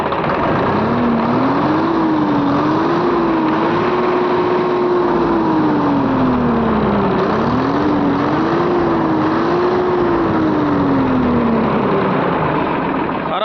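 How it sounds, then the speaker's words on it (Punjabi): A turbocharged engine fitted with a boost pump runs loud and close throughout, its pitch swelling and falling in two long revving sweeps over a steady roar, with no talking. "ਤੁਹਾਨੂੰ ਸਟਾਰਟ ਕਰਕੇ ਦਿਖਾਉਣੇ ਆ ਪਿਕਅਪ ਦੇਖੋ"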